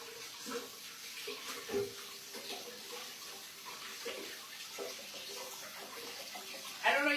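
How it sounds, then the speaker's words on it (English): Water running from a kitchen tap while hands are washed, a continuous hissing splash at moderate level with brief clatters and soft movement noises, the flow surging louder at the very end. "Wash hands."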